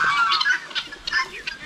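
Goose honking close by in a backyard poultry yard with chickens, turkeys and ducks, a few short nasal honks repeating irregularly, moderately loud with no talk over them.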